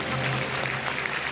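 Studio audience applause on the KBC game show, a dense, steady patter of clapping with a faint voice beneath it.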